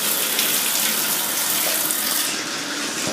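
Water runs steadily from a tap into a sink during a home walkthrough, a continuous loud broadband rush with no pauses and no voices over it.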